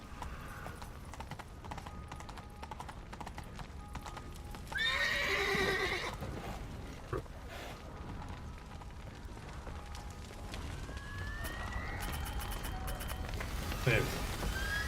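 Roach, a horse in the video game The Witcher 3, gives a loud whinny near the middle against a steady background of hoof clip-clop and ambient game noise, with a fainter neigh near the end. Speech is also present.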